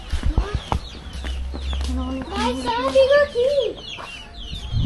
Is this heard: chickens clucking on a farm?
yes